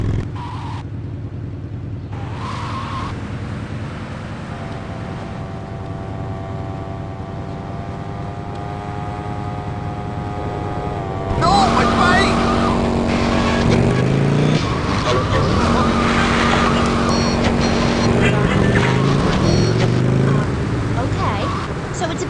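A motorbike ridden in Grand Theft Auto Vice City, a steady engine drone with shifting pitch that grows louder and rougher halfway through, under game music and voices.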